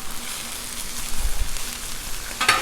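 Onions and bacon sizzle on a Blackstone griddle at 400 degrees, giving a steady close crackle with a few louder pops and a brief brighter spatter near the end, with no talking.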